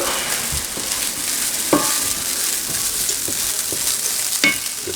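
Food frying in a pan and being stirred, a steady loud sizzle broken by a few sharp scraping and tapping strokes of a utensil, close by with no speech.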